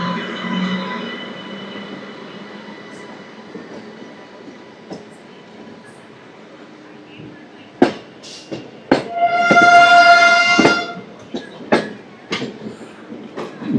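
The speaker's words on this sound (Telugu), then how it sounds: "ఇప్పుడు ఒక ట్రైన్ వస్తుంది అటు సైడ్ నుంచి" A train hauled by a Lalaguda-shed locomotive and bound toward Guntur passes near the track: a quiet hum and faint rumble first, then sharp wheel clatter, a loud squeal and bursts of rail noise rising toward the end.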